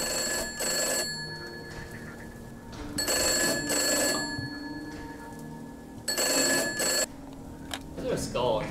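A bell-type telephone rings in the horror video game Gray Dawn, three long loud bursts of ringing separated by pauses, with people talking quietly in between.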